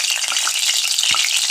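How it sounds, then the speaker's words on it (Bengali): Boiled potatoes frying in hot oil, giving a dense, continuous sizzle close up with one soft knock of a stirring utensil partway through. "এবার তেল দিয়ে আপনার আলুগুলোকে হালকা একটু ভেজে নেব"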